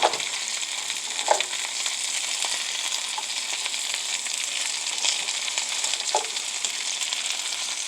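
Half of a very large red onion frying in hot grease in a pan: a continuous bright crackling sizzle, close and steady, with a couple of faint knocks partway through and no talking.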